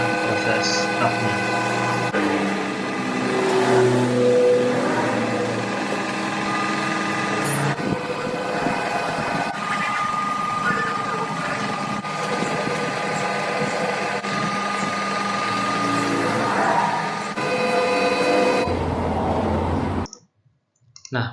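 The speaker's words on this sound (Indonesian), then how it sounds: "Dan ini adalah proses tapnya." Machine tapping threads into a metal workpiece, a steady mechanical whir with clicking and ringing tones that runs continuously, then cuts off near the end.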